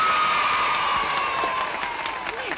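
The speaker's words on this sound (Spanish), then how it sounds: "¡Un aplauso fuerte!" A studio audience claps loudly at a 1974 Christmas children's television show, dense applause with some cheering and a voice ringing out over it.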